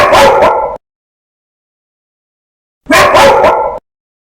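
A dog gives two close, loud barks, each a quick double yip, separated by a pause of a couple of seconds, with nothing else heard between them.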